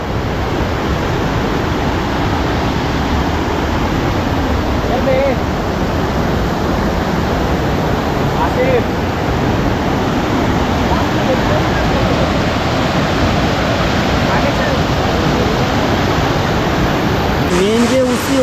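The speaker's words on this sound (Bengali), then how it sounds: "এইটা হচ্ছে যে জলটা এসে এগুলো ধাপে ধাপে পড়ছে ঝর্ণা" Water at Usri Falls cascading down rock steps, a loud, dense, unbroken roar held for the whole stretch, close to the listener, with a brief voice near the end.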